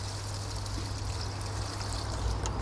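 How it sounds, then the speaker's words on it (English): Water is poured into the base of a plant tray in a greenhouse, a steady trickling stream over a low constant hum. "pour water into the base."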